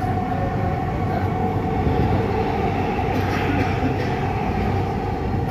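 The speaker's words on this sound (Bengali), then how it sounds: "ওই যে আরেকটা মেট্রো আসছে মতিঝিলের দিকে" A Dhaka metro rail train runs near Diabari as a steady, close rumbling roar of wheels and motors on elevated track, continuous for several seconds with a faint higher whine partway through.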